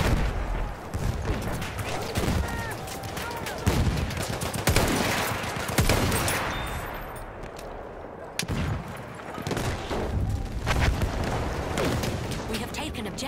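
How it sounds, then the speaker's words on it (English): Enemy machine gun fire in the Battlefield 1 video game, ongoing bursts of rapid shots and booms across a noisy battlefield mix, with a voice speaking at times. "That's an enemy machine gun."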